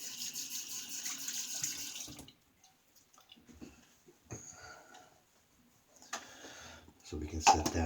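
A shaving brush full of lather is rinsed under a running tap, with water splashing in short bursts between quiet gaps and a voice talking in the background.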